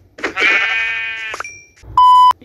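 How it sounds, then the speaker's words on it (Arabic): A Minecraft sheep bleating, one loud wavering bleat held for about a second, followed by a short electronic beep tone close up. "خروف."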